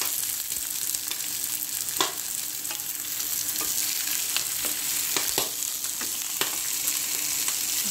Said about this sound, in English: frying the onion.